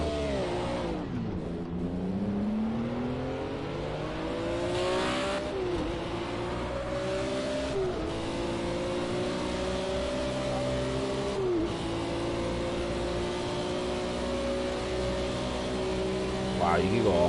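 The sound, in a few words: race cars starting and accelerating in video game Project Cars 2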